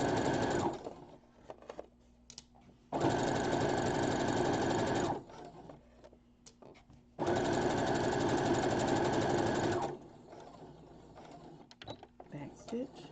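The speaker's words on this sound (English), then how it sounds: "I'm going to stitch close to the edge all the way down." A sewing machine stitches a zipper bag in two long, steady whirring runs of several seconds each, separated by quieter pauses with light handling noises.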